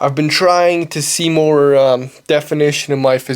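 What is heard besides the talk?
No everyday noise stands out behind the speech.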